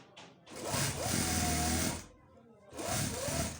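A sewing machine stitches a child's shalwar in two bursts of steady whirring hum with a short pause between them. The sound is close and moderately loud, and no one talks over it.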